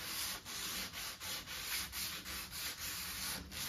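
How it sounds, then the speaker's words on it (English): Coarse 60-grit sandpaper scrubs over dried wood glue on a boat-building project, a steady loud rasp broken into short back-and-forth strokes about every half second, close and continuous with no talking. "So I sanded the glue, started out with 60 grit, and then I moved to"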